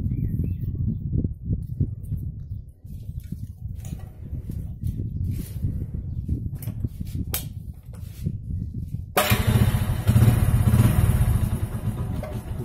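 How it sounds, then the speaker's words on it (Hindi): A Hero motorcycle engine running just after starting, a steady low idle chugging close by for the whole stretch, getting louder and rougher with added clatter toward the end. "देखिए बाइक स्टार्ट हो गया है"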